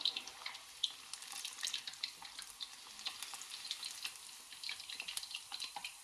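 Pork belly fries in hot oil for lechon kawali, a steady crackling sizzle with scattered pops and spits over a continuous hiss, fairly quiet and close.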